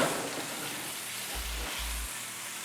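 Fish fillets for paleo fish tacos fry in a hot pan with a steady, close sizzle, while a couple of low scraping knocks come from the pieces being moved around.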